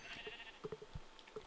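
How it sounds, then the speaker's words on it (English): Sheep bleating in the video game Minecraft, a few short, faint bleats spaced out over a quiet background with no talking. "So I've also luckily spawned next to sheep."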